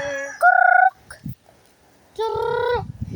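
Two loud, close bird calls from birds on a roof, with a rapid trembling, gobbling quality, separated by a short pause, with faint knocking and rustling between them.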